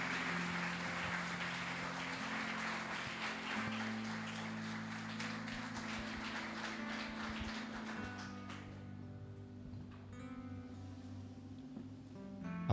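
Church congregation applauding the Lord during an evening worship service, steady dense clapping over sustained music that thins out and fades toward the end, with a final sharp tap.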